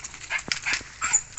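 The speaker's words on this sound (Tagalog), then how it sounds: "Ayan yung aso ni tatay." A dog giving short excited yips and whimpers, a quick uneven series of high whines and small barks, close and clear with no talk.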